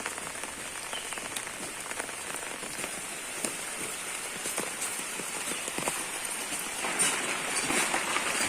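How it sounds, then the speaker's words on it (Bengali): Heavy rain pours onto a surface beside a mud house, a dense, steady patter of drops that swells slightly louder toward the end, with no voices. "বৃষ্টিটা আরো বেশ জোরে এলো"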